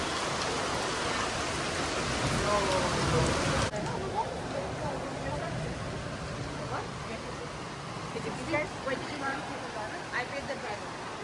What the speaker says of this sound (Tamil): பாருங்க இப்படி இருக்குன்னு மழை பெஞ்சு கொண்டு இருக்குது